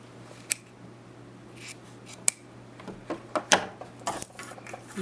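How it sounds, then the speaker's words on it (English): Scissors snip the fabric corners of a sewn bowl cozy, a handful of crisp, light cuts scattered irregularly over a quiet background with a steady low hum. "Just take your scissors and cut some of the thickness away from your corners."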